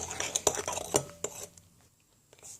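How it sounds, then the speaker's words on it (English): Slime mixture being stirred in a bowl, with a quick run of clinking scrapes and taps from a utensil up close before the sound fades to near quiet. "I'm just going to stir that in."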